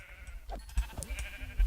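Several short sheep bleats from Minecraft's blocky farm animals, brief and moderately loud, scattered over a quiet background with soft footstep-like thumps in between.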